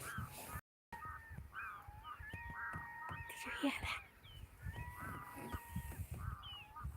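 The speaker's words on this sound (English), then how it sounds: "That's the screaming bird." Harsh, cawing bird calls repeat through an outdoor fishing scene in Sweden at moderate distance, while a voice briefly speaks over them.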